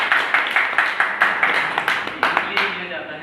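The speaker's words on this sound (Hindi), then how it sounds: "एक बार जोरदार तालियां बजा दो" An audience at a farmers' banana-cultivation training session claps loudly in a steady, synchronized rhythm, about a dozen sharp, evenly spaced claps, with light crowd noise underneath.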